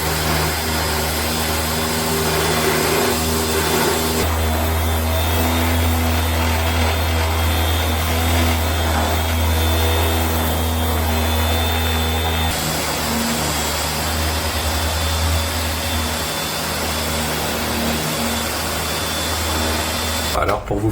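Milwaukee M12 FUEL FROS5 150 mm cordless random orbital sander running continuously with a steady buzzing whir, loud and close, its pitch shifting slightly as pressure on the surface changes, with no talking over it.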